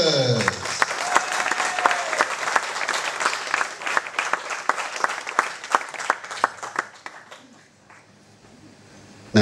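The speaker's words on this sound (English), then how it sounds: "I would like you to give a big round of applause for the" Guests at a retirement party give a band loud, lively applause with scattered cheers, many hands clapping at close range, then the clapping thins out and dies away near the end.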